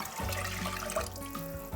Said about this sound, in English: we are going to fill the chopped tomatoes with water, the same equivalent, and we're going to pour that in as well